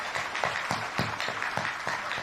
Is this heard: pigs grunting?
no